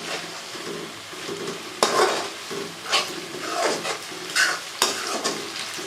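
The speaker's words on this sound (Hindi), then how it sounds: "अब हम इसे अच्छे से फ्राई करेंगे।" Tomatoes, onions and green chillies fry over medium heat in a karahi for fish karahi, with a soft steady sizzle and a series of distinct spoon scrapes and stirs against the pan.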